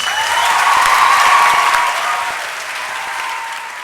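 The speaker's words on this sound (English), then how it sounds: "Can we please give a final round of applause to Russell?" A full room at the Cambridge Union applauds Russell Brand, the clapping dense and loud at first, then easing slightly while continuing to the end.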